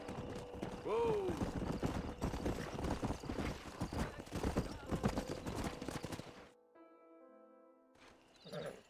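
Horse hooves clip-clop in the Red Dead Redemption video game, a rapid rhythmic trotting with a brief whinny early on, under a busy layer of game noise, then a sudden near-silence and a short faint return.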